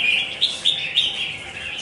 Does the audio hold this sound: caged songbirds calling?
yes